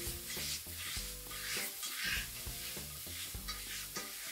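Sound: stir-frying yakisoba noodles with meat and vegetables

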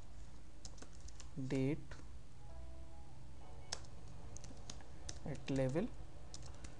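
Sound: typing SAS code on a computer keyboard

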